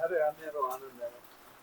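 Soft, steady rain patters in the background at Girnar, Junagadh, during the monsoon, while people talk close by.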